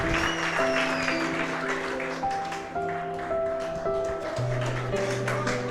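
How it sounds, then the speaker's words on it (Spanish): Applause from wedding guests right after the couple's kiss at a church wedding ceremony, a dense, steady clatter of clapping that lasts throughout, with sustained tones, probably music, underneath. "Fuerte los aplausos."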